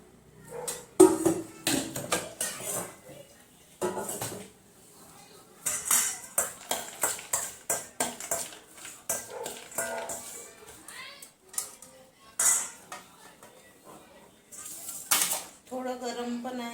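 Raw onion, chili, turmeric and oil are mixed in a bowl with a spoon, making bursts of bright metallic clinks and scrapes, close and irregular, with a voice talking at times.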